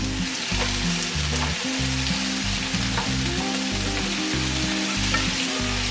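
Flank steak searing on a Weber kettle grill gives off a steady, close sizzle that runs unbroken from start to finish.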